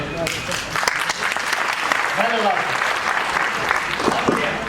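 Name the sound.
applause from an audience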